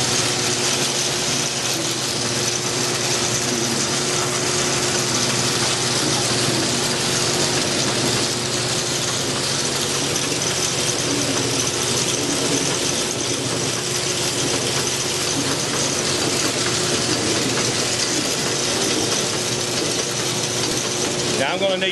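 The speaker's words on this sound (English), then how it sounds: "Then I'm going to speed up the turbine again." A grist mill's water turbine spinning up, its gears, belts and ratcheting mechanisms clattering in a steady, continuous mechanical drone with a sustained hum throughout.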